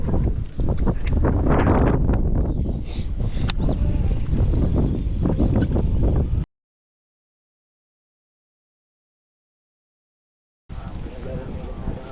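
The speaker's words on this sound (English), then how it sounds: "Slight wind breeze today, about 40 miles per hour." Strong wind of about 40 miles per hour on a Wisconsin spring fishing outing buffets the microphone in a loud continuous roar, cutting out to silence midway and then returning.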